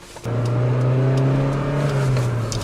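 A Toyota MR2 GT-S sports car engine revs and holds a high, steady whine close by after a brief quiet start, with no talking.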